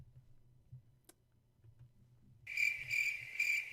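Crickets chirp in loud, rapid pulsing trills that begin abruptly after a stretch of near silence with faint low hum and a single click.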